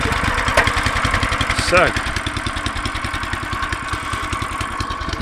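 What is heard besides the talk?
petrol cultivator engine running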